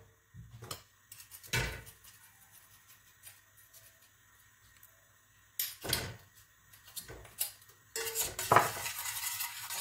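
Sugar melts in a pan for an eggless cake and is stirred, giving scattered scrapes and clinks of a utensil against the pan between quiet stretches, busier and louder toward the end.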